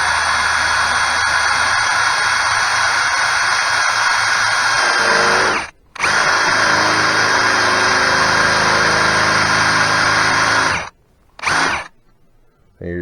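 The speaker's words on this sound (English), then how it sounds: "It's a lot easier to drill through than what you would think." A power drill boring into a hardened steel knife handle whines steadily at high pitch, stopping briefly twice before trailing off, loud and close.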